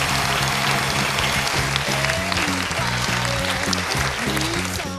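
Audience at a Rotary International district assembly in Vicenza applauding, a dense continuous clapping wash in a large hall, loud and sustained, with music playing underneath.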